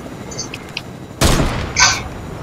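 Gunfire in the video game Fortnite: a few faint clicks, then a sudden loud blast at mid-clip followed by a second burst, close and sharp against a quiet game background.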